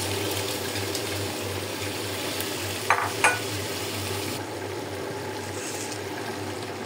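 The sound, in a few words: mung dal and chickpea dal added to a frying pan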